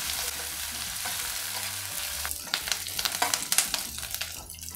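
Green chillies, onions and curry leaves frying in a pan for a ridge gourd curry, a steady sizzle with stirring scrapes that grow busier and more clattery toward the end, with no talking.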